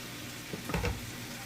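Barbecue chicken sizzling in a frying pan, a brief soft crackle with a couple of stirring scrapes, faint and close.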